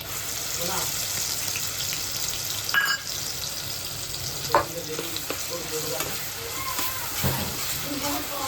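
Ground masala of ginger, garlic, coriander and a little coconut frying in butter, a close, continuous sizzle broken by stirring scrapes and a few clatters of the spoon against the pan.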